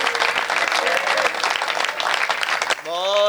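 Audience at a Hindi kavi sammelan poetry recital claps in a dense, sustained burst of applause that fades as a voice begins speaking at the end.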